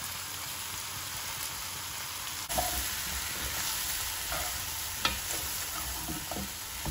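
Tomato paste frying in a pan for a meatless vegetarian stew, giving a dense continuous sizzle with a few clinks and a louder scrape partway through, close by with no talking.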